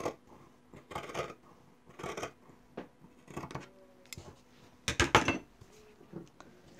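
Scissors cut apron fabric pieces in a series of short, crisp snips and clicks, grouped in bursts with small pauses between them, heard up close in a quiet room.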